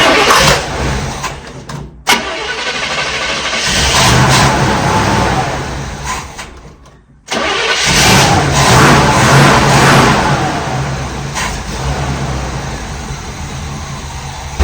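A 1966 car's engine, revived from a dead battery by a jump starter and starting fluid, cranks and catches with two abrupt cutoffs, then settles into a loud, steady idle close by with no voices.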